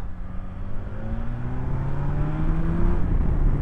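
A 2023 BMW S1000XR TE motorcycle engine pulls hard in third gear, its rising, droning note climbing steadily and loudly close by with steady road and wind roar underneath.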